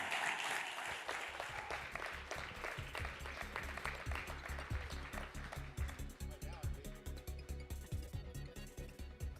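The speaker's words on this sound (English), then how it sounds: "Please give him a big round of applause." Audience applause at the Hill Nation Summit 2025 for a congressman being introduced, a round of clapping that runs for several seconds over a steady, rhythmic background beat, fairly faint overall.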